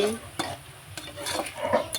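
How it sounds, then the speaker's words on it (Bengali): Onions fry in a pan for mutton kosha, sizzling steadily as a utensil stirs and scrapes with several sharp knocks against the metal, close and moderately loud, with no talking. "পেঁয়াজটা লাল লাল করে ভাজা হয়ে গেছে।"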